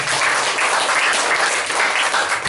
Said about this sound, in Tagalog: Malakas na palakpak muna.